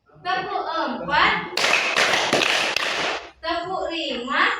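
A classroom of children in an Islamic studies lesson claps in unison in a four-beat pattern, a loud dense run of claps between the teacher's spoken instructions.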